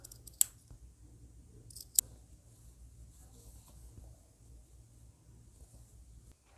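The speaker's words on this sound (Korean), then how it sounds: "시접을 좀 잘라내셔도 괜찮고 여기는 잘라내고 가위밥을 좀 주셔도 괜찮습니다." Scissors snip through the fabric seam allowance of a balloon-sleeve cropped blouse, two crisp, close cuts with a quiet room and light handling noise between them.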